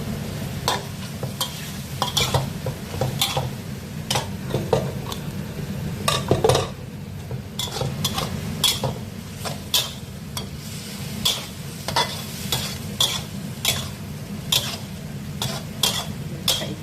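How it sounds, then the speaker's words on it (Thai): Long eggplant stir-fried in a pan, with a steady low sizzle under repeated sharp scrapes and clacks of a utensil against the pan at an uneven rhythm, close and moderately loud. "ผัดมะเขือยาว"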